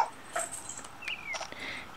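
A golden retriever puppy gives a few faint, high whimpers and yips close by in a quiet room, the short cries spaced unevenly.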